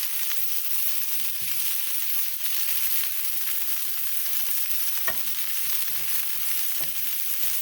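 Teriyaki chicken and sauce being stirred together in a hot pan, a steady sizzle and frying hiss with scattered scraping stir noises, close and alone with no talking.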